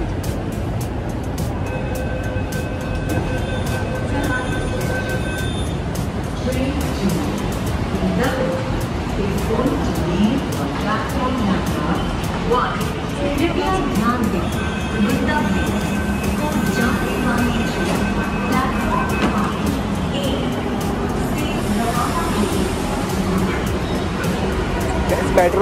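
Steady rumble of a Mumbai Metro train in an echoing station, with crowd chatter and voices throughout and a few tonal beeps near the start.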